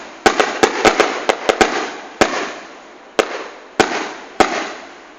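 Firecracker bombs bursting outdoors at a football supporters' banner event in Guarulhos, a rapid string of sharp loud cracks, about eight in the first two seconds, then single blasts spaced a second or so apart, with no talk.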